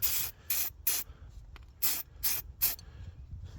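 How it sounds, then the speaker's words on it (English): Six short sharp hisses from a spray can used on brake parts of a SAAB 9-5, close by, in two bursts of three with brief pauses between them. "you simply just spray on"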